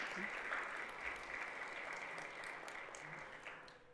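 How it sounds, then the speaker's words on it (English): An audience at a civic club forum gives a sustained round of applause, a dense wash of clapping that slowly tapers off, with some murmuring voices underneath. "let's give all of our partners and sponsors a round of applause"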